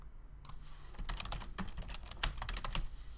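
Text being typed on a computer keyboard: a brisk, uneven patter of crisp key clicks, close and moderately loud, over a low hum of room noise, with no one speaking.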